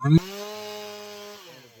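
A chainsaw ripping a wooden board: the engine drones steadily after a sharp start, holding a buzzing harmonic whine before winding down toward the end.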